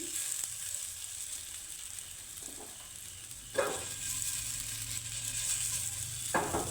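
Tadka sizzles steadily in a pan, with quiet scrapes and clinks of stirring breaking through now and then; close, soft and without talk.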